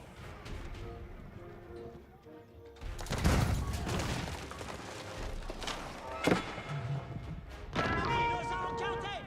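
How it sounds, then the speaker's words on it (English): Cannons fire in an Age of Empires 4 battle at a capital, heavy booming blasts landing around 3, 6.3 and 8 seconds over a busy backdrop of combat noise and hooves, with a commentator talking throughout. "Cannons now engaged in the capital."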